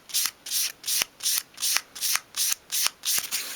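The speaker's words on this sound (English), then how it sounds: "just sweep along with a piece of fine grade sandpaper, holding it at a 45-degree angle, and we're just taking off that square edge" Fine-grade sandpaper sweeps along the edge of a small wooden piece for a 1/12th scale dolls house kitchen dresser, nine even rasping strokes in a steady rhythm, close and fairly quiet.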